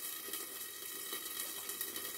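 Quiet, steady sizzling of flourless cheese pizza crust frying in a covered pan, a soft continuous crackle with no voices over it.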